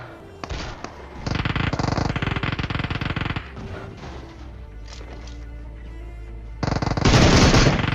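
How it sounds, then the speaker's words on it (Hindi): Video game gunfire in PUBG Mobile from two players on a hill: rapid automatic bursts, one long burst and a closing loud burst, separated by quieter stretches of distant crackling fire. "अब रोजोक की पहाड़ी से जो है फायरिंग हो रही थी दो लोंडों की"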